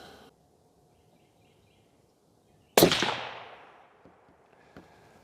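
A single loud crack from a Savage 110 Trail Hunter rifle fires mid-clip on an outdoor range, its report decaying over a couple of seconds before a faint distant echo.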